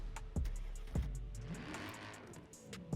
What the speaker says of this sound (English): It's just your typical V8 sound.